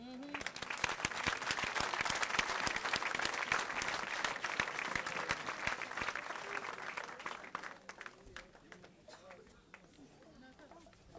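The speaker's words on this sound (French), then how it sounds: "On acclame Jésus." Church congregation applauding and cheering to acclaim Jesus, dense sustained clapping from a large crowd with voices mixed in, loud and continuous before thinning toward the end.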